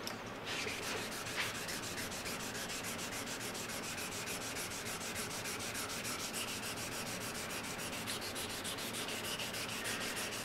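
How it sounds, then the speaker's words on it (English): An aluminum piece is wet sanded by hand with 400 grit sandpaper, a continuous close rasping scrub with quick regular strokes that holds an even level throughout. "See, also as I sand, the sandpaper kind of wears out"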